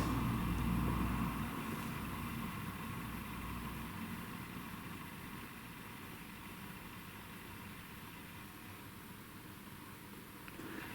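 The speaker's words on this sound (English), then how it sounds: "See, there's a car going past." A car passes outside, heard from indoors as a faint, steady low rumble of engine and road noise that slowly fades across the stretch, with no voices over it.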